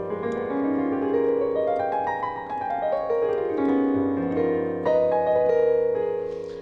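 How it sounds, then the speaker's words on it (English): Altered dominant seventh jazz chord played on a sustained, tonal instrument, voiced with shifting inner lines and a few restruck notes, clear and moderately soft with no talking. "the altered dominant seventh chord, which I call the chocolate chord."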